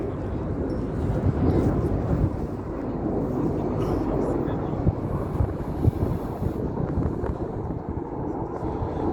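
Red Arrows RAF jets fly in formation at the Gdynia Aerobaltic 2021 airshow, a broad, steady distant roar blended with heavy wind buffeting on the microphone, sustained without a break throughout.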